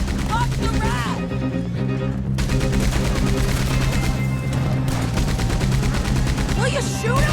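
Rapid bursts of gunfire in the Red Dead Redemption 2 shootout at Beaver Hollow, overlapping shots crackling close and loud with shouted voices layered in between.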